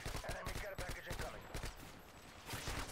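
Rapid bursts of assault rifle tap-fire from an M4A1 or AK-47 in Modern Warfare 2 (2009), loud and close, with short pauses between volleys under game noise.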